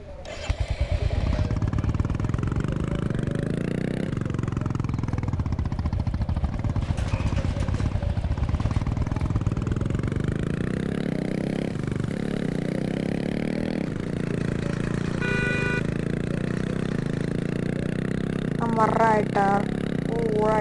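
A motorcycle engine in a fake GTA-style Android game hums and revs steadily throughout, with scraping and clattering bursts mixed in.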